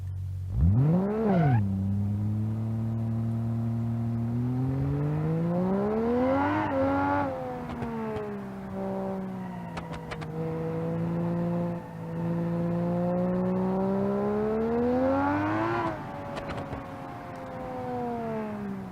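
A Turbo 6 car engine revs on an autocross course in BeamNG.drive, its pitch climbing and dropping in repeated sweeping pulls with a sharp rise at the start. It sounds close and steady, with no talking.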